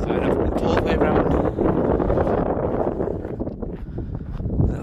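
Wind gusts roar steadily across the microphone on a walk around an abandoned tower, a loud continuous buffeting rush that dips slightly partway through, with no talking heard.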